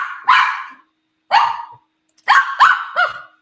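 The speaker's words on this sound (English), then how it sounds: "Carly, you making Charlie dog bark, girl?" A pet dog named Charlie barks loudly and close up: one sharp bark, a pause, another bark, then a quick run of three barks, with silence in between.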